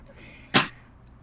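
A single sharp sneeze bursts out abruptly and close, loud against a quiet background, then fades quickly.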